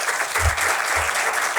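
An audience at a conference claps in a dense, steady burst of applause, loud and close, with no talking.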